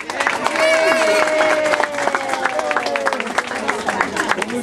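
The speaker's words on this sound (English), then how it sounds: "Give yourselves a big round of applause." Children and an audience applaud at an indoor holiday party, a steady wash of clapping and crowd noise with voices mixed in throughout.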